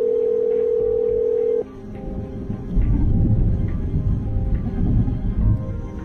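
A telephone dial tone in the game The Red Strings Club holds steady for about a second and a half, then cuts off and gives way to a low rumbling hum.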